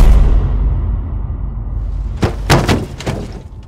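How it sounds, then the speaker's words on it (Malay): A few heavy thuds land in quick succession after a low rumbling stretch, loud and close, like something weighty crashing down. "tiba-tiba kedengaran bunyi benda berat jatuh ke bawah"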